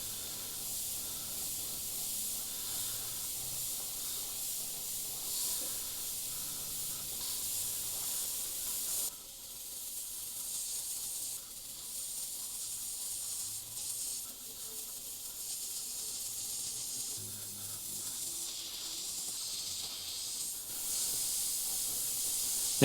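Steady airbrush hiss spraying transparent black paint over a fiery tiger artwork, continuous and close with brief pauses and slight changes in pressure throughout.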